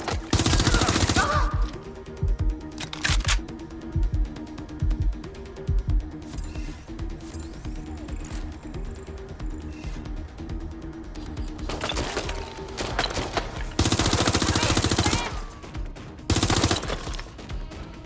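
Video game gunfire in Watch Dogs: Legion, played on PS5, with heavy automatic bursts and loud volleys recurring over a busy combat soundscape, mixed with music and in-game character voices.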